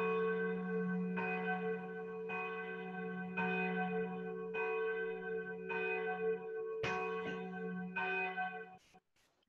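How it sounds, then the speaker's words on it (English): Twelve slow, evenly spaced strokes of a church bell, each ringing out with a long humming decay that overlaps the next, heard alone with no voices before the final tone fades. "The bell. Struck 12."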